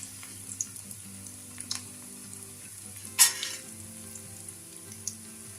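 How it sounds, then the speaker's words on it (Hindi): Bread pieces frying in hot ghee over a medium flame for croutons, with a continuous soft sizzle, a few light ticks and one sharper scrape or clatter near the middle. "अब हम ब्रेड के पीस फ्राई कर लेंगे।"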